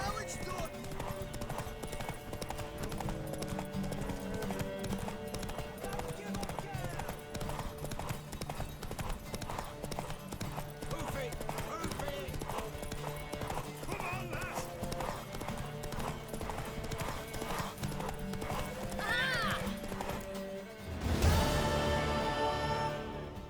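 A horse gallops in The Witcher 3 during a race, its rapid rhythmic hoofbeats running steadily through the scene beneath voices and game music, ending with a louder burst of movement near the finish.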